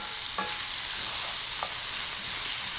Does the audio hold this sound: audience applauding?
no